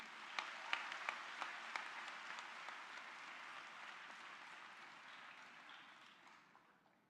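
Audience applause greets a guest at a book release event, a sustained indoor clapping from a seated crowd with a few sharp claps near the start, gradually fading toward the end.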